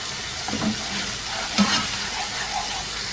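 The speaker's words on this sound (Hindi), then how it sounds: "प्याज को इतनी देर तक पका लेंगे कि ज़रा हल्का सुनहरा सा हो जाए।" Oil sizzles steadily in a pan while a spoon stirs and scrapes through a thick onion paste, with a couple of soft clinks.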